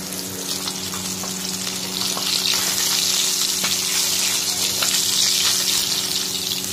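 Torn greens fry in a kadai, giving a steady, close sizzle that grows slightly louder and continues without a break, with a faint low hum underneath.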